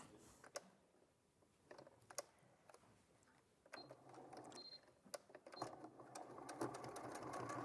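Domestic sewing machine stitching a lunch bag in a live craft studio, running in short stop-start bursts of rapid stitching that build into a steadier, louder run near the end, close and alone.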